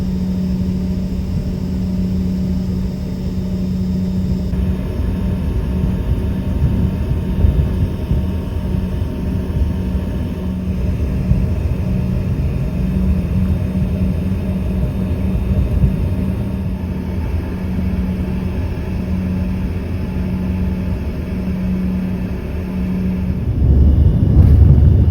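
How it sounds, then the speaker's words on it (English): Loganair airliner taxiing toward runway 18 at Stornoway for the flight to Glasgow, heard from inside the cabin as a steady, loud engine drone with a constant low hum, swelling slightly near the end. "we pushed back from the tarmac and began to taxi over to the main runway, number 18"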